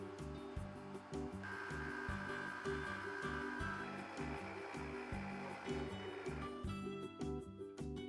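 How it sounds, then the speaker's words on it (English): An electric stand mixer beats eggs and flour into pasta dough, a continuous motor whir with a pulsing, churning rhythm that briefly rises in pitch as the speed increases, close and with no speech. "slowly increase the mixer speed up to medium"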